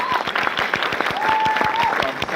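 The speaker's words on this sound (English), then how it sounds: "And clap for her" An audience claps steadily in a rapid, even patter that fills the room for a couple of seconds.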